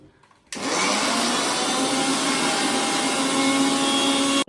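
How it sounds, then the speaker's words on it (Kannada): An electric kitchen mixer grinds masala with grated coconut for a village-style Mangalorean dish. After a brief quiet start, the loud, steady whirring roar continues without pause until it cuts off at the very end. "ತೆಂಗಿನ ತುರಿಗಳು ಹಾಕಿ ಕಡಿತಿದ್ದಾರೆ"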